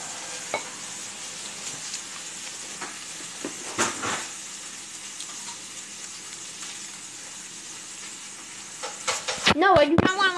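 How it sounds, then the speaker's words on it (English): Food fries and sizzles in a home kitchen, a steady soft hiss heard from a distance in the background. A few faint clinks come through, and a louder burst of clatter arrives near the end. "you can hear my mom cooking in the background"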